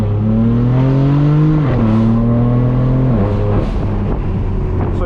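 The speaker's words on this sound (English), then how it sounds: "So I'm just gonna go full throttle and see what the car does." A BMW M4 at full throttle, the engine's loud droning tone climbing steadily, dropping sharply at two quick dual-clutch upshifts, then pulling again, close and continuous.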